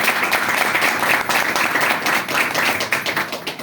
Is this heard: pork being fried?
no